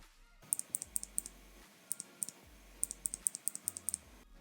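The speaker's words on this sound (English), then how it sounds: "I just love this tick tick tick sound" Crisp clicks from a NuPhy Air75 mechanical keyboard with blue clicky switches, typed in quick bursts of sharp, close keystrokes with short pauses, alone and fairly quiet.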